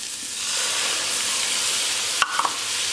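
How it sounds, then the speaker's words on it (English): Ginger pork with onions and soy tofu sizzling steadily in a pan while being stir-fried, a continuous close hiss with a few brief clatters of utensil against the pan near the end. "I'm gonna quickly stir fry that."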